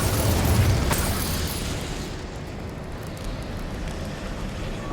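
A whooshing, roaring burst of fire from an Incendio spell in Hogwarts Legacy, loud at the onset and then tailing off into a steady, crackling rush.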